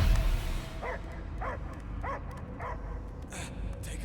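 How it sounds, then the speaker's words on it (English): A dog barks in the Guardians of the Galaxy video game, giving five evenly spaced, mid-distance barks over a low rumbling game soundscape. "I hear only barking."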